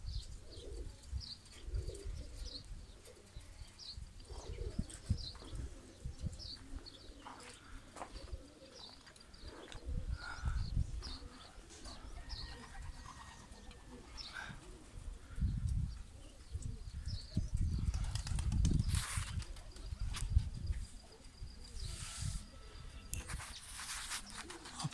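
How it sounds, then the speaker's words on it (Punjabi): Pigeons coo quietly around a loft with chirps and bursts of wing flapping as some birds fly out, the calls scattered and fairly faint, and no one speaks. "ਐ ਵੇਖੋ ਇੰਨੀ ਬਾਹਰ ਨਿਕਲ ਕੇ ਉੱਡ ਵੀ ਗਏ ਨੇ ਸਾਡੇ ਕੋਲ ਕਬੂਤਰ"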